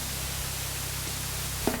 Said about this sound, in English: the white noise that you hear, it just gives you a general idea of how close the walls